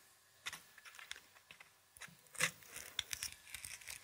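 Sharp scissors snip a hole in a material, giving a series of small crisp cuts and crinkly rustles spaced irregularly over a few seconds, close and fairly quiet.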